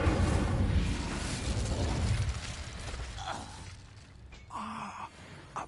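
A fire spell cast in the Hogwarts Legacy video game erupts in a loud burst of crackling, rushing flame that roars for a few seconds, then fades into quieter magical whooshes and a brief tonal chime.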